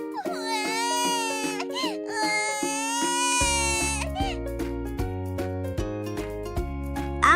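A cartoon child's crying in a children's 3D animation about body sounds, wailing sobs rising and falling over a steady bouncy music bed.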